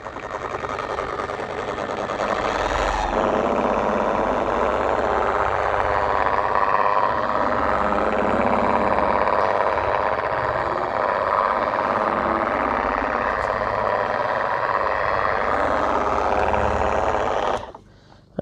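A machine polisher spreads Autoglym Super Resin Polish on car paint with a steady, high whirring drone that starts after a brief lower run, holds loud and even, then cuts off near the end.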